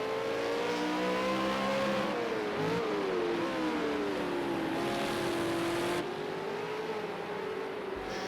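A V8 Supercar at Ruapuna Park brakes hard into a hairpin and accelerates out, the loud engine drone falling as it slows then climbing steadily in pitch, close and continuous throughout.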